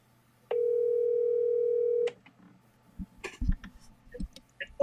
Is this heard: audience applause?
no